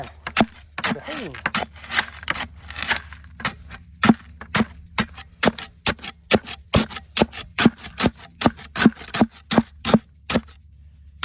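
A garden hoe hammers hardened material inside a bucket in a long series of sharp, evenly spaced knocks, close and fairly loud, with no talking.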